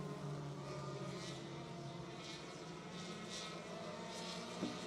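Four-cylinder race cars running a feature race at New Egypt Speedway, a steady distant engine drone from the pack with faint rising and falling passes, no voices over it.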